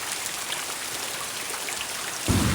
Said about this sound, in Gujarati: હવે આમનામ વરસાદ આવતો